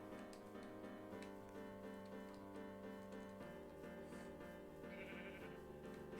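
Minecraft sheep bleating in the video game at dusk, a few short nasal bleats popping up over steady layered background game music, no talking.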